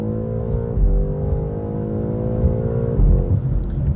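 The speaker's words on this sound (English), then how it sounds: "I just want you guys to listen how the car sounds in stock before we do anything" A stock BMW M8 Competition engine revs hard in third gear on a road, a loud sustained drone with steady harmonics that rises and dips around the three-second mark, heard from inside the car with no talking.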